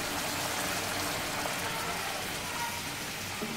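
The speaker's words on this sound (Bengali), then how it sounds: "এখন আমি এর মধ্যে পানি অ্যাড করে দেব।" Water being poured into beef curry simmering in a pot, a steady broadband pour and splash that keeps going at an even level for a few seconds, with no talk over it.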